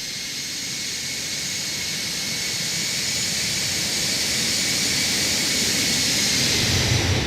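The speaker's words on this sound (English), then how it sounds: "This 747 is just one of the coolest airplanes." Jet engines of a Boeing 747-200 in a flight simulator game, on approach to Kai Tak, give a steady, loud roar with a high whine that barely changes across the whole stretch.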